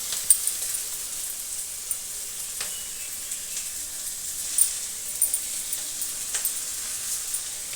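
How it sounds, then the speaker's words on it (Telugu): Sliced bitter gourd frying in a pan gives a steady, even sizzle, with occasional soft clicks of stirring over the constant hiss. "మధ్య మధ్యలో వేయించుకుంటూ ఉండాలి కాకరకాయను మాడిపోకుండా."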